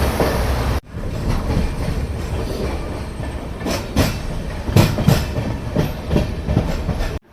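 A Malda to Sealdah passenger train rolls past near New Farakka Junction with a loud, continuous rushing roar and rhythmic clattering of wheels, rising in bursts toward the end.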